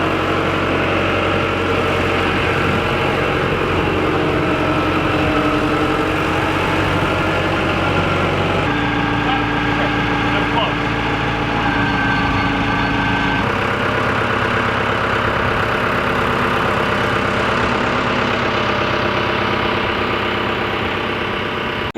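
A heavy 24,000-pound construction machine idles continuously, a loud, steady low diesel rumble with slight shifts in tone, nearby and without speech.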